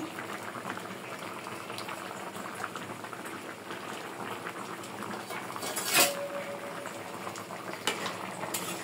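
A pangas fish and dundul (sponge gourd) curry simmers uncovered in a pot, bubbling steadily close by, with an occasional clink of a utensil against the pot and no talking.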